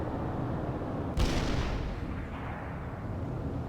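Rockets fired in World in Conflict: a sudden loud launch blast with a sharp onset, trailing into a long roaring rumble that slowly fades over steady battlefield background noise.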